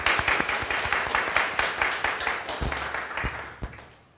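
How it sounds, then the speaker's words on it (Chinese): A church congregation claps at an elders' installation service during a Sunday worship, a scattered burst of hand claps that thins and fades out over a few seconds in a reverberant hall. "来，咱鼓掌"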